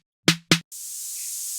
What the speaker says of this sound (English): Static white noise